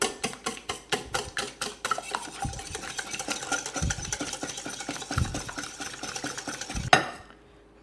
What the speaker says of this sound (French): Et on va venir battre du coup notre mélange œuf et sucre.